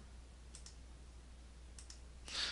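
Computer mouse clicks while working in AutoCAD, a few faint quick double clicks spaced apart over a quiet background, with a slightly louder burst of clicking at the end.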